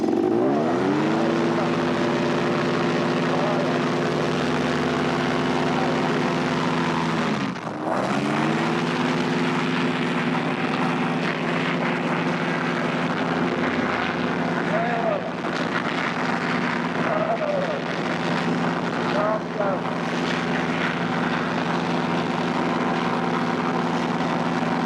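A paramotor engine drones loud and steady during flight, a propeller hum holding pitch with one brief dip, while people talk over it.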